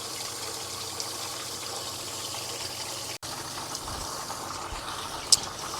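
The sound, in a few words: water rinsing home brewing equipment with detergent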